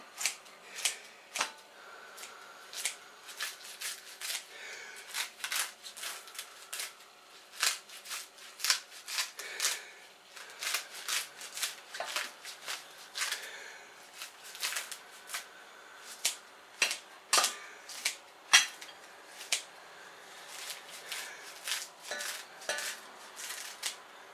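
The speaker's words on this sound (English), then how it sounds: "starting to get a bit blunt, these scissors" Kitchen scissors going blunt snip fresh garden salad leaves, a long run of crisp, irregular close cutting clicks and rustles spaced a fraction of a second apart, moderately quiet with no talk.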